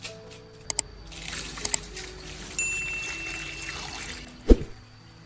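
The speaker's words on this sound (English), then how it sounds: "Put the dragon fruit in a basin, then add a little salt and add clean water." Water trickles and pours softly into a basin holding dragon fruit and a little salt, with a few light clinks and a thud near the end.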